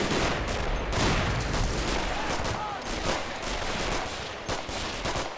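Rapid, dense gunfire from a World War II–era battle in the strategy game Men of War: Assault Squad 2, with machine guns and scattered shots layered into a continuous, loud barrage, joined by sharper bursts near the end.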